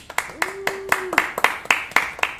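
Sparse, distinct hand claps from a small audience at a foodtech startup demo day, about a dozen separate claps in an irregular rhythm, fairly close, with a brief voice in the middle.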